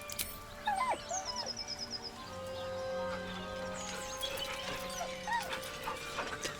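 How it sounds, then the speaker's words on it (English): A dog whines softly in Baldur's Gate 3, a few short whimpers over a layered game soundscape with music and ambient tones, no talk. "With a deep, heartbroken whine, the dog bows his head."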